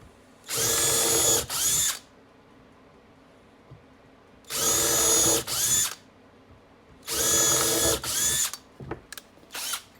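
A power drill countersinks screw holes in a knotty wood board, three separate whirring bursts of about a second and a half each with pauses between, then a few short blips of the trigger at the end.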